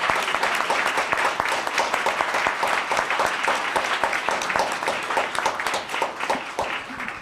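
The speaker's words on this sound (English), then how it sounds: "Let's give her a round of applause." An audience at a town council meeting claps continuously, a dense, even patter of many hands held steady throughout before tapering slightly at the close.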